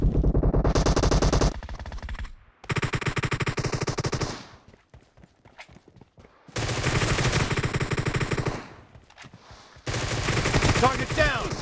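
Sustained automatic assault rifle fire from the mobile battle royale game PUBG Mobile, loud and close, in long continuous bursts separated by brief pauses, with faint game voice cues between the bursts.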